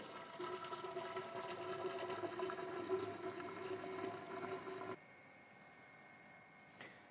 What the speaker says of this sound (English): a great accessory item that makes pumping into your kegs quite easy